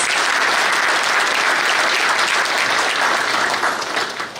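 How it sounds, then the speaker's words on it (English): Loud, sustained applause from an audience at an evening community event, a thick even roar of many hands clapping close by without any talking. "So can I have a round of applause for our media as well, please?"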